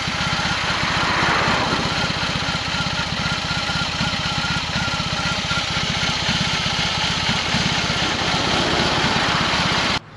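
A BMW R18 motorcycle's big boxer engine idles in neutral while standing still, a loud, steady, close-up low rumble with a fast even pulse that cuts off abruptly at the end.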